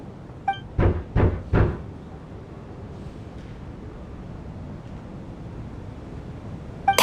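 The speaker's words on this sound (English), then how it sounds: "Or was that a knock at the door?" Three quick, sharp knocks on a door in the video game Genshin Impact, in an evenly spaced rhythm, followed by a quiet stretch and a faint final click.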